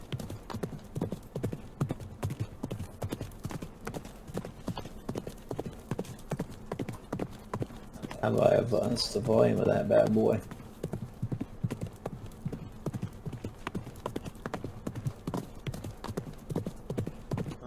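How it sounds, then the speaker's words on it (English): A horse gallop sound effect plays as steady rhythmic hoofbeats, with a whinny in the middle, while someone talks over it. "There we go, horse gallop sound effect"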